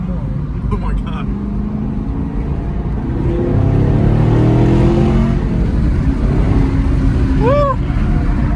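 Chevrolet Camaro SS engine pulling hard from inside the car, a rising low drone that swells and holds loud, with a person talking and whooping over it.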